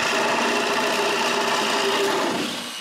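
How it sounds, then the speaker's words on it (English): A power drill whines steadily as it bores corner holes in plywood, close and loud, with a grinding texture that fades out at the end. "When it's done, I drill the corners."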